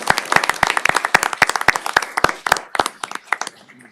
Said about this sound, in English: the whole team deserves, again, another round of applause for their work in our community